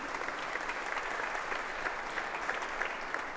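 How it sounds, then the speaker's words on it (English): Steady applause from an audience, many hands clapping continuously at moderate distance, with no speech over it. "Let's give them a big round of applause and thank you."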